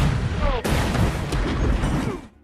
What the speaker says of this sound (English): And suddenly, a German ship opened fire on the Greyhound.